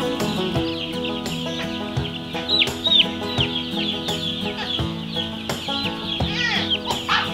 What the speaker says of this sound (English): It's just neat to see all these chicks